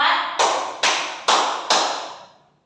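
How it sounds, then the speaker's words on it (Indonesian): Four sharp hand claps ring out at an even, unhurried pace, each one crisp and close with a short fading tail. "Tepuk 2, tuh. Tepuk 3,"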